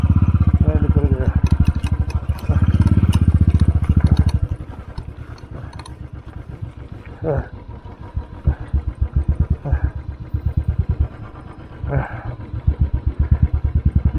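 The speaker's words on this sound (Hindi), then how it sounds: "बाइक पूरी स्किप कर रही है" Motorcycle engine skipping and misfiring on a mountain road in North Sikkim, its loud revving dropping to an uneven, sputtering putter with irregular bursts, while a rider talks over it.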